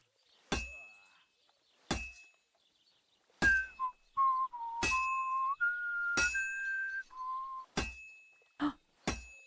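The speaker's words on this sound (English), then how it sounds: "My whistling actually worked there for a second." A person whistles a wavering, sustained tune that slides between a few pitches, interrupted by sharp metallic clinks at a blacksmith's anvil in a medieval game.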